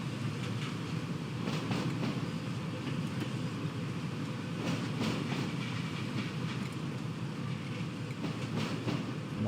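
Railway wagons being shunted in the Train Sim World 6 game around Carlisle, a steady rolling rumble with repeated clickety-clack beats from the wheels, continuous and fairly close for about nine seconds.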